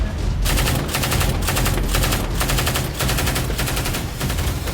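Machine gun fire during the defense of Avdiivka in Ukraine crackles in rapid sustained bursts, loud and close, about five bursts separated by brief gaps.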